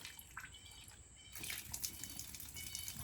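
Spring water runs steadily into a concrete spring house, a soft continuous trickle and splash that stays faint and even throughout with no voices.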